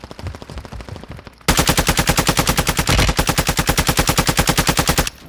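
Rapid automatic gunfire rattles in Call of Duty: Modern Warfare II, a fast, loud, even burst of shots up close, swelling sharply after a quieter opening volley.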